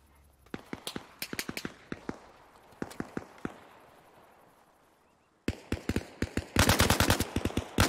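Rifle fire in ARMA Reforger, a burst of sharp, close gunshots in uneven clusters, a short lull, then a rapid stream of loud automatic shots toward the end.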